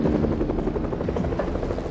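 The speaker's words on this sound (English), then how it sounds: "Is that helicopter? There's a helicopter," A video game helicopter drones steadily close by, its rotor chopping in a fast even pulse throughout, with no speech over it.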